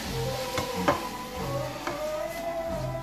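Pieces of beef browning in a hot pan give a steady close sizzle, with a few clicks and scrapes as the meat is moved around, and no talking.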